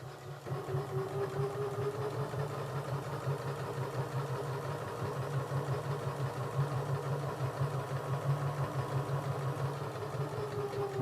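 A sewing machine stitches fabric in one continuous run, a fast, even mechanical whir with a rapid pulsing rhythm that holds steady for about eleven seconds, close and moderate in level, with no one talking.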